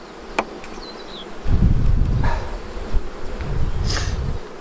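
Honeybees buzz around open hive frames during a colony inspection, a close, loud droning swarm that swells after a quieter start, with a few sharp clicks and knocks mixed in.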